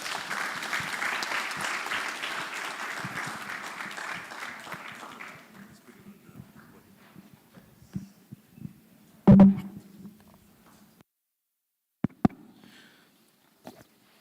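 Audience applause after a talk at a career expo, a full burst that fades out within about six seconds, followed by near quiet with a few isolated knocks and bumps.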